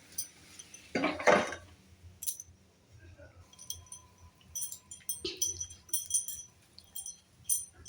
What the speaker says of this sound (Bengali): অল্প একটু ঢাকা দিই আর কম করেই রেখেছি গ্যাসটা